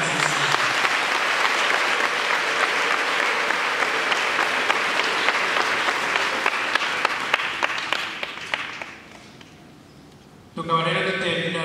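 A church congregation applauds during an Easter celebration at Sainte Famille parish, a dense, steady wave of clapping that carries for several seconds, thins out, then gives way to voices.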